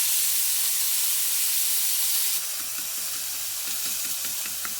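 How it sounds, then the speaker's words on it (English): Kawai fish searing in olive oil in a pan on high heat: a loud broad steamy hiss that drops partway through into a quieter sizzle with faint light tapping, close, no talking. "you can see that it's cooking on high heat so that it gets a good sear on both sides"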